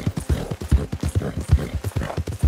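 Horse hooves clip-clop in Red Dead Redemption 2, a quick, even run of close, crisp hoof strikes on the ground, loud and steady with no voices over them.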